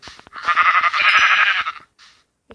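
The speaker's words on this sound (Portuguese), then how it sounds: "Opa, ovelha." A sheep in the Minecraft video game bleats in a long, loud, wavering cry lasting over a second, followed by a shorter faint bleat, clean and close with no talk.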